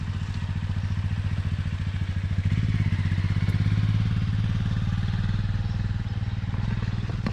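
A motorbike engine idles and revs nearby in a steady low rumble that swells for a few seconds midway, with some clattering, on a campsite in New Zealand.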